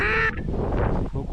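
A wild duck gives one short, nasal honking call during a duck hunt on a cold, windy, snowy morning, followed by a rough, breathy wash of outdoor noise.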